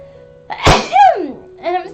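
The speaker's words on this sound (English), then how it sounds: "And I'm sneezing again." A person sneezes once, loud and close, with a sharp burst followed by a voiced falling exclamation and a brief vocal sound afterward.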